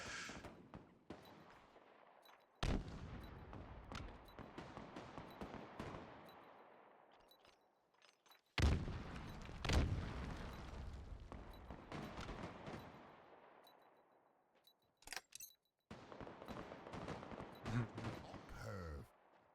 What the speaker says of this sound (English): Oh, now you're shooting your gun.